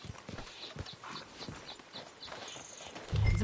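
Horse hooves clip-clop at a steady walking pace in Red Dead Redemption 2, crisp and fairly close, with a faint low rumble building at the very end.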